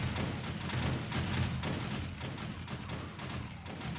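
Rapid automatic shotgun turret fire in the 7 Days to Die video game, Alpha 16, on a horde day, a dense continuous rattle of blasts with a steady low rumble underneath, loud and unbroken throughout.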